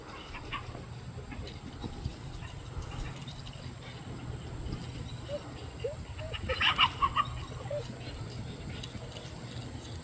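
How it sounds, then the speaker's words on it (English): Roosters on a homestead farm cluck and squabble at close range against a low steady background hum, with a brief flurry of louder bird calls partway through. "Those roosters are already chasing each other."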